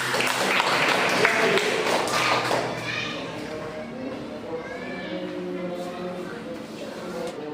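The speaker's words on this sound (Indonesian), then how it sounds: "Tepuk tangan dulu." Classroom applause from a group of students, a dense burst of clapping for roughly three seconds that then thins out and fades under murmuring voices and chatter.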